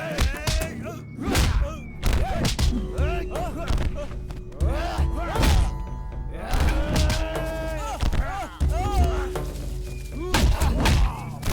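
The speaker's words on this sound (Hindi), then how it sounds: "इसे इतना मारो कि दोबारा ऐसी हिम्मत ना कर सके।" Blows and thumps as people beat a man in a Hindi-dubbed horror film, with repeated heavy thuds mixed with shouting and groaning voices over a busy soundtrack.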